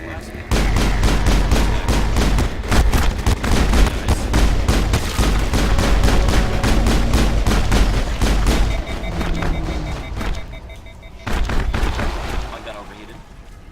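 Rapid bursts of gunfire from the Mass Effect video game crackle and boom almost continuously in a dense, loud stream, easing off briefly before one last flurry.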